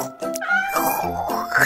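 A cat meows close by, a short rising-and-falling call followed by a second brief mew.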